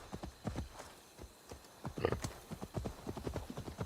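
Rapid clip-clop of a horse mount's hooves in Assassin's Creed Valhalla, a steady trotting rhythm heard close and fairly loud, with a brief whinny partway through.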